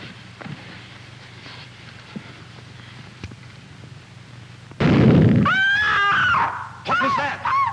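A single loud shotgun blast bursts out after a stretch of quiet outdoor background, followed by excited shouting and high voices.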